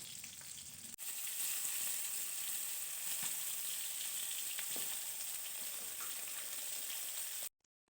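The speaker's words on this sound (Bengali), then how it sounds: "এদিকে বেগুন ভাজা হইতেছে" Slices of eggplant fry in hot oil in a kadai, giving a continuous close sizzle with faint crackles that stops abruptly at the end.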